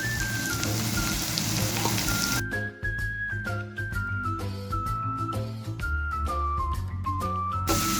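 Potato pieces fry in hot oil with turmeric and salt, making a steady crackling sizzle that runs throughout beneath a melodic background tune.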